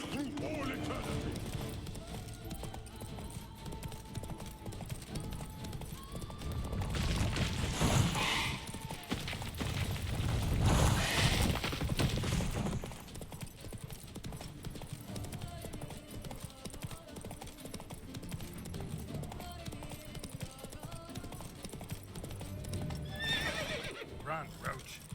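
Roach, a horse in The Witcher 3, gallops with steady clip-clopping hooves and lets out loud neighs and whinnies, with game music underneath.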